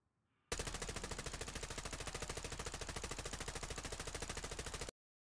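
A gun fires in a video game during a recoil test: one unbroken full-auto burst of about four seconds, very fast and evenly spaced, then a sudden stop into silence.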